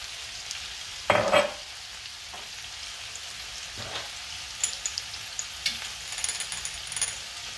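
Carrots and mushrooms with coriander and mixed herbs sauté in a pan, making a gentle continuous sizzle broken by a sharp scrape and a run of light clinks from stirring, with no speech.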